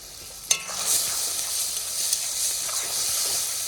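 Curry leaves hit a hot pan of ginger, garlic, tomato and green and red chilli paste with cumin, setting off a sharp burst of sizzling and spitting that settles into a steady, close frying hiss with occasional stirring.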